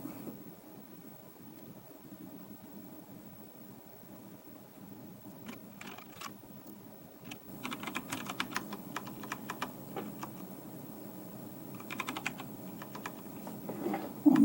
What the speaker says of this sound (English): I'm kind of typing at an angle here and making all sorts of mistakes.